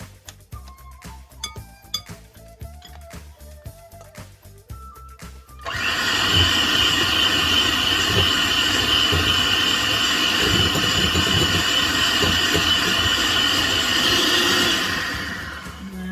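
Clinking and tapping come first, then a blender kicks in loud and steady, whirring as it mixes milk cake batter for about nine seconds before winding down near the end.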